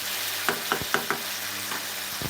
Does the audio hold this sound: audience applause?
no